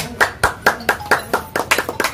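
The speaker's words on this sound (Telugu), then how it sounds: "క్లాప్స్ కొట్టారు." Steady, rhythmic hand clapping at a Mother's Day celebration gathering: about ten sharp, close claps in quick succession, no talking.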